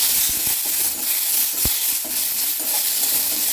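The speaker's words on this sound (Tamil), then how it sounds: "அப்படி நம்ம நல்லா வதக்கிக்குவோம்" Steady sizzling of food frying in a hot pan, with occasional scrapes and stirs cutting through the hiss.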